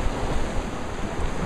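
Ocean waves wash steadily onto a beach in a continuous broadband roar, close and loud, with no voices.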